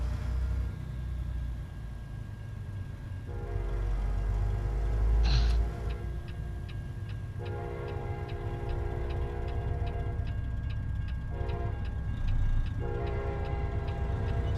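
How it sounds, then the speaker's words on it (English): In American Truck Simulator, a train passes a rail crossing: a low rumbling rolling of wagons under a steady rhythmic ding of crossing bells, with a brief horn blast partway through, continuous and fairly close. "Looks like we got to wait on a train already."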